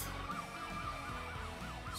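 A fire engine siren from a Hot Wheels cartoon wails steadily in a rising-and-falling pattern, loud and close, with no talking over it.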